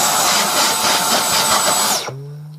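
A Dyson Cyclone V10 cordless stick vacuum runs on its low setting with a loud, steady whirring roar and high whine for about two seconds, then abruptly spins down to a fading low hum.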